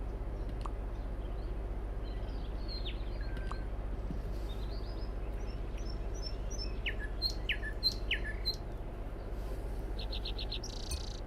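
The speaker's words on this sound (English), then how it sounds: "But for now I'm just gonna leave it on the bird sounds." Bird-sound ambience plays steadily during a craft stream: scattered chirps and tweets, some clustered in quick runs, sit over a constant low hum, with no talking.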